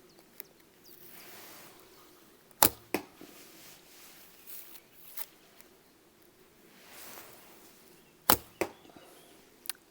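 Lightweight arrows loosed from a Seljuk fiberglass bending bow, heard as a few sharp, close snaps and thwacks spaced over a quiet background, with softer handling rustles between shots.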